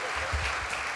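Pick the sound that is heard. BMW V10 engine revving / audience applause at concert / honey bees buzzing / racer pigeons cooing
audience applause at concert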